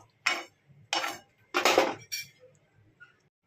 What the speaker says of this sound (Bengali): টক দই দিয়ে আমি ভালো করে নাড়িয়ে নিচ্ছি